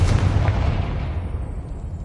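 A Confringo spell blast in the video game Hogwarts Legacy, one loud booming explosion at the start that rumbles and fades over about two seconds.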